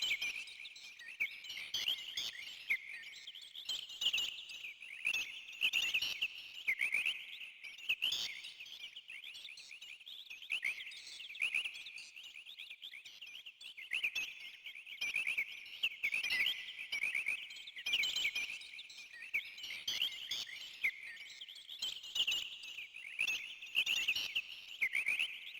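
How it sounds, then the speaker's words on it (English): Birds chirp in the video game Suikoden II, a faint, continuous chorus of repeated high tweets and short trills with no talking. "I hear birds chirping."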